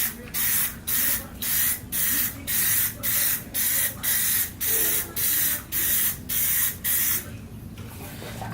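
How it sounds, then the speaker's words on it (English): Plastic dip aerosol hisses onto a KTM 390 Duke front fender in about a dozen short, even bursts, close and steady, each spray separated by a brief pause. "now for the first layer of plastic dip on the front fender"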